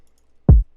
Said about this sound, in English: I also added this kick hitting on the 1 of the drum pattern